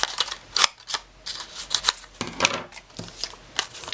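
Scissors snip repeatedly through black cardstock in quick, irregular crisp cuts, close and clear with no talking.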